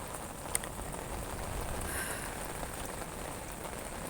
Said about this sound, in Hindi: ये देखें, बारिश के साथ खेल रही हूँ मैं पाँव के साथ।